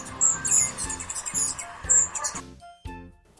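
A hummingbird gives quick, high, squeaky chirps that come in short repeated bursts over a rhythmic musical backing.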